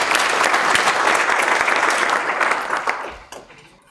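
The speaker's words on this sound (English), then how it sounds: "give a round of applause for all the past chairs" Audience applause at a Chamber of Commerce legislative breakfast, dense and steady clapping from a room of people that tapers off near the end.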